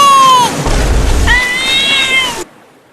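A cat meows twice, loud and close, in drawn-out falling and rising cries with a low rumble between them, before the sound cuts off abruptly.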